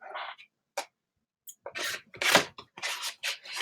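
Scissors snip through paper close by in a series of short, crisp cuts, some spaced apart and others coming in quicker succession.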